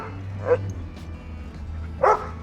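Dogs at a dog hotel give two short yips or barks about a second and a half apart, moderately close, over a quiet background hum.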